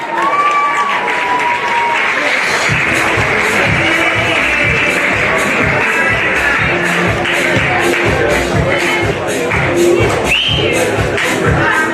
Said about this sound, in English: Ladies and gentlemen, can we please have a round of applause for our runners-up,